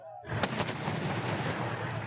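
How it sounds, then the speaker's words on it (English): Insurgent gunfire intensifying during an Iraqi and American push near Baqubah, Iraq: sharp reports crack out near the start over a dense, steady roar of distant firing that carries on throughout. "Insurgents' gunfire intensifies."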